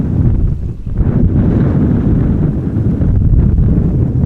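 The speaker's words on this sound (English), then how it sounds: "It is windy AF." Strong crosswind buffets an open microphone at Amsterdam Schiphol Airport, a loud, steady low roar with gusty swells throughout and no voices.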